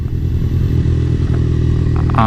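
Triumph Bonneville motorcycle engine fitted with TPUSA cams and a TPUSA Dominator touring exhaust, idling loud and close with a steady deep rumbling throb and a brief sharper rev at the end.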